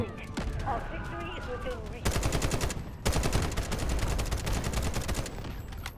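Rapid automatic gunfire in the shooter game Delta Force Hawk Ops, dense bursts of shots rattling steadily for several seconds after a brief lull, loud and close.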